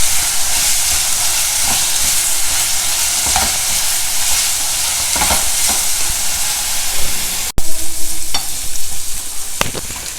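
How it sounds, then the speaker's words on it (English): Chopped vegetables for a vegetarian biryani sauté in a hot pan, giving a loud, steady, close sizzle and hiss broken by occasional stirring scrapes and clicks. "saute the vegetables for a couple of minutes"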